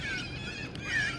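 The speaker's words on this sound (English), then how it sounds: "sorry about the birds." Birds call outdoors in two brief, thin, rising cries, one near the start and a louder one near the end, over a steady low background hum.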